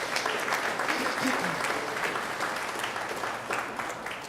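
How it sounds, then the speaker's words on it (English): An audience at the launch of a Trinidad and Tobago arts festival gives a round of applause, a steady dense wash of many hands clapping that holds at an even level throughout. "Let's give them a round of applause,"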